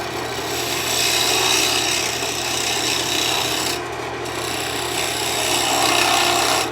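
Close, continuous scraping of a turning tool against spinning wood on a lathe while shaping a pie server handle, steady and loud with a brief dip midway and no talking.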